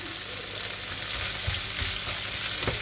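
Fish cooking with plenty of frozen garlic simmers and sizzles steadily in a pan, a dense continuous crackle with a few soft bumps and stirring knocks.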